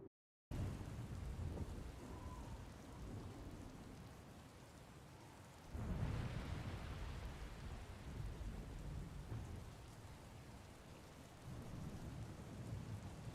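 A game storm in Star Wars: The Old Republic: steady rain pours throughout, with a rolling thunder crash swelling midway and lingering under the downpour; no one speaks.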